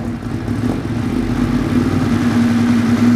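A 2015 Ducati Monster 821 engine idling and gently building revs, a steady loud drone with a strong low hum, close up, no speech.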